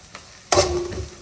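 Cinnamon, cardamom and bay leaf go into a pan of softened frying onions, setting off a sudden close sizzle that swells and then settles into a steady hiss. The sizzle is brief and no one talks.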